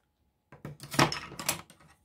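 A few crisp snips of scissors cutting paper, close by, in quick uneven strokes after a brief silence.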